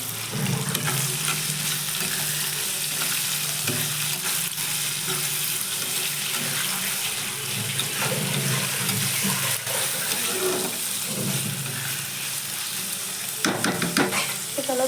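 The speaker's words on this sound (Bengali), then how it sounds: "পেঁয়াজটা দিয়ে একটু নেড়ে দেবো" Onion frying in a pan sizzles steadily and loudly throughout, with intermittent scraping and clinking as it is stirred.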